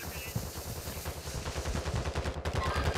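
Rapid automatic gunfire from friendly teammates in Warzone 2, a dense rattling stream of shots sustained for the whole stretch, close and loud, with faint game voices underneath.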